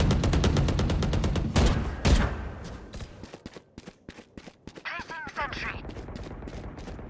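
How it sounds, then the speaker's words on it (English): Sheriff pistol gunfire in a Valorant gunfight during an esports playoff match, a dense burst of shots at the start followed by scattered sharper reports and footsteps, with a commentator talking over the action. "Ooh, and we lose the first gunfight. That Sheriff, a valuable gun."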